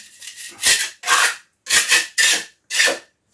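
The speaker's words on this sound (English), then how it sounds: "he's filling the holes again, and I guess we'll find out in a week if this mix is better" Trowel or float working a cement and sand mix into holes in a wall during a kitchen renovation of an old ruin in Portugal, giving five close scraping rubs in a steady rhythm with short pauses between strokes.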